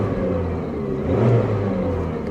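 A Chevy Cavalier with a previously blown head gasket runs steadily while driving, its mid-pitched engine hum and low rumble continuous and fairly loud, swelling slightly partway through, with no talking.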